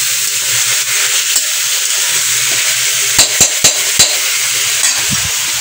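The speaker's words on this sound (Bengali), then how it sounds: "আমি এদিকে করছি রান্না, মাংসর ভুনি হবে আজকে।" Meat bhuna cooks in a pan with a steady, close sizzle, joined around the middle by a few sharp scrapes and clinks of stirring against the pan.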